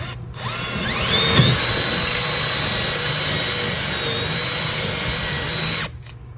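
A power drill whines steadily at close range, boring holes in a Sea-Doo watercraft, its pitch rising as it spins up and bites into material, then stops abruptly.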